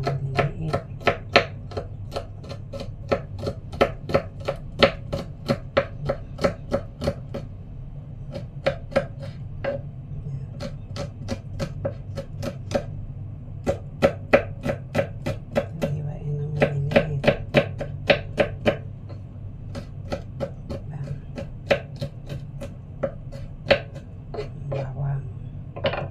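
Squid being chopped into small pieces with a knife on a board for adobo, quick bursts of sharp, close chopping taps in irregular rapid runs, with brief pauses between and faint talk underneath.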